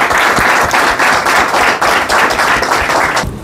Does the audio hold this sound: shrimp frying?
no